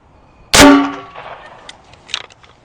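A green-tip 5.56 rifle round is fired into a stack of frying pans: one sharp, loud report with a metallic clang that rings and fades, followed by faint scattered clinks.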